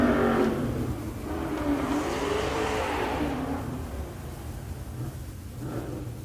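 A Corvette C3 and a 1970 Chevelle with a stick shift launch side by side at a drag strip, engines roaring and revving from a distance, then fading as they run away.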